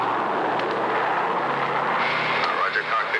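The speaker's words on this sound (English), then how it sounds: "Our C-124 is flying totally blind through a treacherous ice-fogged mountain" Douglas C-124 aircraft engines in flight produce a steady, loud, broad roar with an engine drone that holds throughout, with no clear speech over it.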